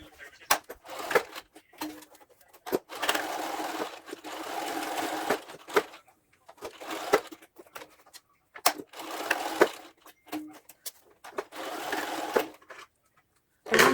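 Sewing machine stitching fabric for a face mask, running in several bursts of steady whirring and needle rattle separated by pauses, close and clear, with brief bits of talk between runs.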